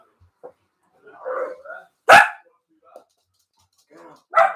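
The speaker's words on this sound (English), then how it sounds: "Dog madness. Too many dogs now." Several dogs bark in short, separate bursts, one sharp loud bark standing out among softer yips and whines, with quiet gaps between them.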